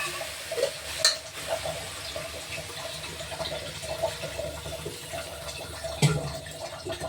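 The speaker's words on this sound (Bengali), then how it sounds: "আমি এর মধ্যে একটু জল দিয়ে দিই।" A little water is poured into a pan of spiced potato curry as it fries, giving a steady soft splash and sizzle up close, with a couple of sharper clinks from the pan.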